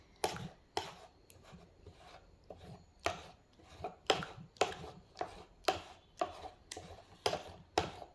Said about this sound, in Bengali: এটা ততক্ষণ মেশাবো যতক্ষণ না এটা সুন্দর একটা পেস্ট হয়ে যায়